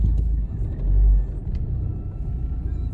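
A car rolls through a roundabout, heard from inside as a close, heavy low rumble that swells briefly and then settles into a steady drone.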